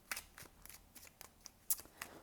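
Tarot cards being shuffled by hand in a series of crisp riffling bursts and soft slaps, close up and fairly quiet, with no talking.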